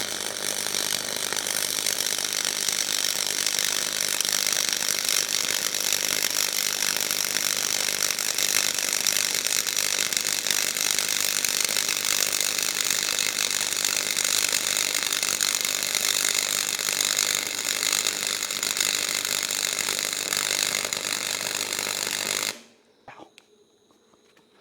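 An SCA Mini MIG 100, a budget $100 MIG welder, lays a bead with a loud, steady crackling buzz that holds for about 22 seconds and then cuts off abruptly into near silence.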